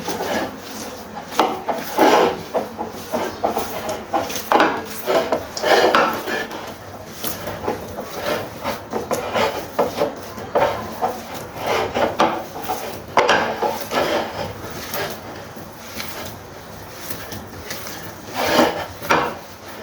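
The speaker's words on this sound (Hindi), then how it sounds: "इन सब चीज़ों को डालकर हमें इसे अच्छे से मिक्स करना है।" Minced mutton and spices get worked together by hand for chapli kebab, a steady rubbing, scraping rhythm of repeated strokes, close and fairly loud, with no voices throughout.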